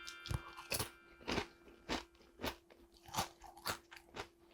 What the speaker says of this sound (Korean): 간을 하나도 안 했는데도 바삭바삭하면서 요 감칠맛이 입에서 쫙 돌아요